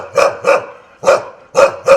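Dogs bark in a residential neighbourhood of Vaibhav Nagar, five loud, close barks in an uneven rhythm with short pauses between them and no one talking.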